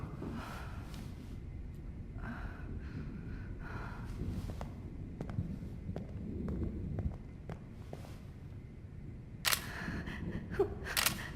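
An SLR-style camera in the video game Life Is Strange fires its shutter, several crisp mechanical clicks scattered over quiet ambience with footsteps and breaths, the loudest snaps bunched near the end.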